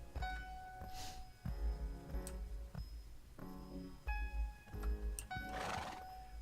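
A horse in the video game Mental Block Z lets out several loud, close neighs and whinnies with sharp harmonic cries, broken up by clip-clopping hooves and game effects.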